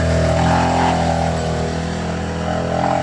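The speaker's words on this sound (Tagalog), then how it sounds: "Pasensya na po kayo dahil talagang maingay dito. Tabing kalsada po kami." Steady roadside traffic rumbles outside a small LPG shop, with passing motor engines and a constant loud low drone.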